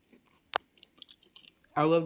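Crunchy homemade dish with stringy cheese being bitten and chewed close up, a sharp crunch followed by softer chewing clicks, then a person begins talking.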